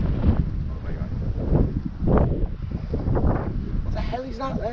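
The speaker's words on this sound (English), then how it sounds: "It's a bit windy." Gusty wind buffets the microphone at a canal marina and junction, rumbling in uneven low bursts while people talk over it, with a brief higher warbling sound near the end.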